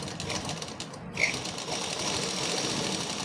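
A sewing machine stitches a simple painted flower embroidery pattern, running as a steady continuous whir for the whole stretch with a brief sharper click near the start.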